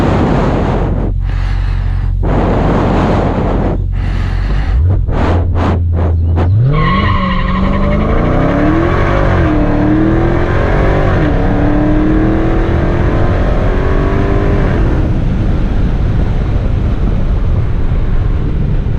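A 2018 Dodge Charger SRT Hellcat revs in short bursts, then launches hard with screeching tires and a loud supercharged engine climbing through gears in a drag-racing run, recorded close and loud.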